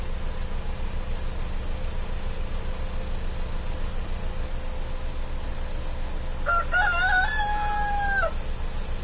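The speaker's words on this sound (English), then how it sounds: "I think I got roosters too" A rooster crows once in the distance over a constant low engine-like hum.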